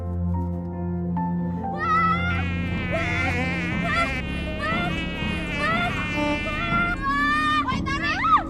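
Cartoon wasps buzz in a continuous whining drone that rises and wavers over a low musical bed, loud and steady throughout with no speech.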